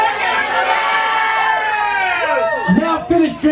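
Concert crowd in Plymouth, Massachusetts cheering and screaming on a count, a loud dense wall of many high voices with whoops and shouts sustained throughout.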